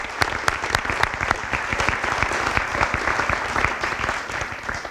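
A crowd at a high school spring sports awards event applauds a girls' track team, dense, sustained clapping at an even level throughout with no pause.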